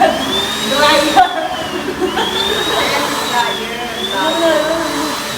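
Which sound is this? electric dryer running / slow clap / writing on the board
electric dryer running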